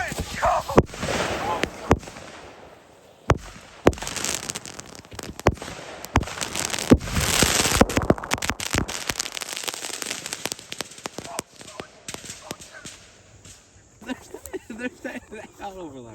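Fireworks set off against a safe, a dense barrage of sharp crackling bangs and pops over sixteen seconds, loud and close, with people shouting and talking amid the blasts.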